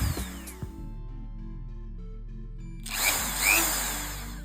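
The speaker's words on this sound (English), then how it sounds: "This was a bunch of simple little bits of drilling, not going too far into the miniature, just making little divots" A Dremel rotary tool whines as it drills small shallow divots into a plastic Gundam miniature, with brief bursts of high-pitched drilling between quieter motor hum.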